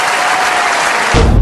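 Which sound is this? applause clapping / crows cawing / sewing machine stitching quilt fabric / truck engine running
applause clapping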